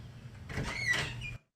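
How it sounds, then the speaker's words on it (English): A sliding door opens with a rolling, scraping rumble lasting about a second, moderately loud and close, ending abruptly before silence. "Okay, see how I open the door?"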